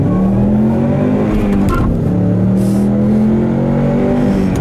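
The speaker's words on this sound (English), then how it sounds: "I'll leave you guys with a nice little acceleration here, like I always do" A Ford Mustang accelerates hard, its engine note climbing steadily through the gears with a brief shift break midway, loud and close, no talking over it.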